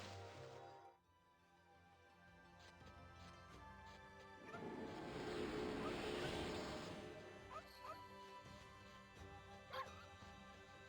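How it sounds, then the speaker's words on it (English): A dog in the video game Okami barks and whimpers over a backdrop of game music, with a louder crashing burst in the middle and a few short yips near the end. "I love startling the dog"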